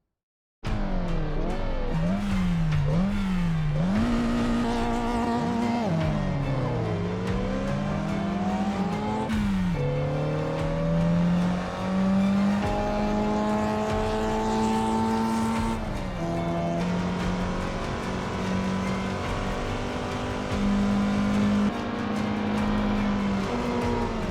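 A Mazda NE Miata accelerating hard along a 1 km straight, its engine revving up through the gears in repeated climbing sweeps with brief dips at each shift, loud and close throughout.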